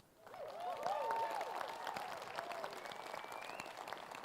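Applause from a room full of people at a convocation ceremony swells quickly and holds steady, a dense patter of many hands clapping with a few scattered voices mixed in.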